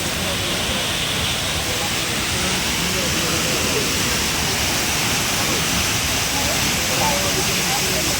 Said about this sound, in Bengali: ওয়াটারফলসটা নামছে এখান থেকে, এখানে জলটা এসে পড়ছে